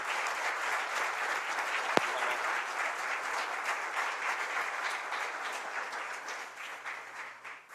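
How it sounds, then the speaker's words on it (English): Steady applause from an audience at a school board business meeting, a dense even wash of clapping with one sharp louder clap near the start, gradually tapering toward the end. "So another round of applause for Student Leadership Congress."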